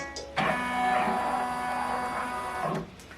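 Computerized embroidery machine stitching a Mylar-embellished design, a steady loud mechanical whir with tonal hum starting abruptly and running about two and a half seconds before stopping, with no talk.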